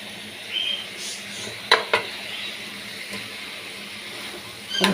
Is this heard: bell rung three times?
no